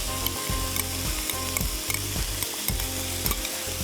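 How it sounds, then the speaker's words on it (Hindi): A tin of creamed corn sizzles and fries in a hot cooking pan, a continuous crackling hiss with a regular stirring rhythm, close and alone. "अब मैं डालूँगी इसमें ये 1 टिन क्रीम्ड कॉर्न का"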